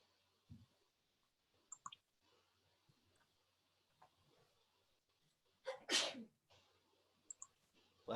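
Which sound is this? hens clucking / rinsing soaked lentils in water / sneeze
sneeze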